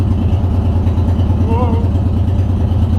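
A vehicle engine idles steadily as it warms up before a freeze, with a loud, even low rumble throughout and a brief faint whine partway through.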